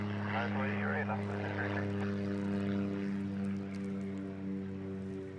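A small Cessna propeller aircraft taking off from Honolulu airport's runway, a steady droning engine tone with strong low harmonics heard throughout, while voices chatter faintly over it.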